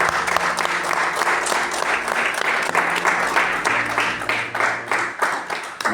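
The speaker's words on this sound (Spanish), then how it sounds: "Dale un aplauso al Señor" A church congregation applauds enthusiastically, dense clapping that swells and continues steadily with a low sustained tone underneath.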